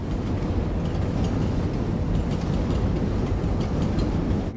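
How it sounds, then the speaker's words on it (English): A train from a Better Call Saul episode, a steady loud rumble with faint rhythmic rail clatter continuing throughout. "Man, trains in a Vince Gilligan production just scare me now."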